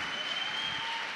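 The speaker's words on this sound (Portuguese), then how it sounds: "dê uma salva de palmas para eles" A church congregation applauds for parents during a Sunday Mass homily, with dense, steady clapping filling the whole short moment.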